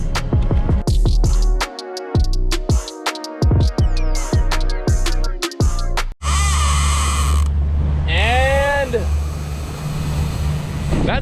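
A fishing reel ratchets rapidly and steadily as a fish strikes and pulls line out during offshore mahi fishing, loud and close, with a brief gap midway and people talking and whooping over the clicking.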